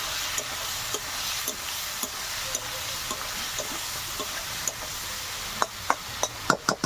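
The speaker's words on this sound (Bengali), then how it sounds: "টমেটো কুচিটা দিয়ে দেবো, গোলমরিচের গুঁড়ো দিয়ে দেবো, লঙ্কার গুঁড়ো দিয়ে দেবো, একটু নাড়াচাড়া করে নেব" Chopped tomato, pepper and chili powder get stirred in a sizzling pan, a spatula scraping and tapping at a steady pace, with the knocks growing louder and quicker near the end over a constant frying hiss.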